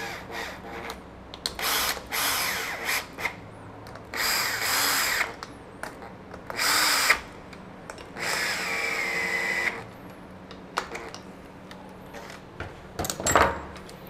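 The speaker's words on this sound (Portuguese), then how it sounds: "Eu vou só chegar ele aqui com a parafusadeira, depois a gente aplica o torque nele." A cordless power screwdriver runs bolts into a Yamaha 125 motorcycle engine during assembly, in repeated close whirring bursts of one to two seconds separated by pauses, ending with a ratcheting clatter; no talk.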